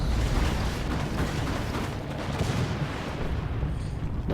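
Repeated grenade launcher fire from a Warhammer real-time strategy match, a dense, continuous barrage of booming blasts that rolls on steadily throughout, loud and close, with no clear gaps between shots.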